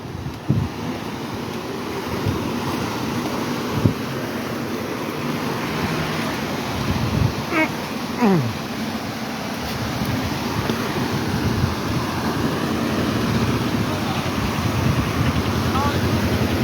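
Kushiyara river water pouring through a sluice gate at Balaganj, a constant roaring rush with wind buffeting the microphone and a few brief voices and knocks over it.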